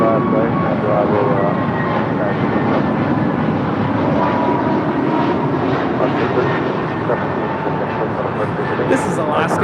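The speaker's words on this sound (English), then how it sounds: "This is Alaska Airlines 1317 departing to Seattle on an A321neo." Alaska Airlines Airbus A321neo departing on a flight to Seattle, a loud sustained jet engine roar that holds steady throughout, with voices talking over it.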